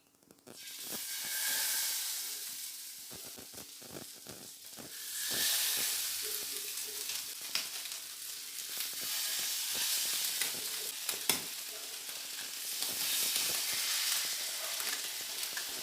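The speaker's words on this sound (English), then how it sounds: "So once the pan is hot, add oil, add mackerels." Marinated mackerels frying in hot oil in a pan, a continuous sputtering sizzle full of crackles and pops that swells and eases as the fish cooks, close and steady.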